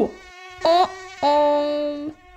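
A cartoon mosquito buzzes loudly and close in two whining bursts, the first short and wavering and the second longer and steady.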